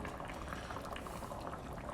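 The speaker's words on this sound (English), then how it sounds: "If it keeps bubbling like it is now" Arrabbiata sauce in a pan bubbles and boils steadily at close range, a continuous dense popping and gurgling with no talk.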